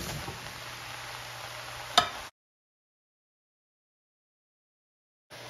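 Ground beef and onions sizzle in a frying pan for a shepherd's pie, a steady close crackle lasting about two seconds with one sharp clack before it cuts to silence.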